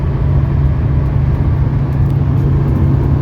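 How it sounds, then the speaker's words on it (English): A 1979 Mercedes 300SD W116 turbo diesel sedan cruises steadily, heard from inside as a loud, even low drone and road rumble with no talk. "That's the test drive for the 79 W116 300 SD"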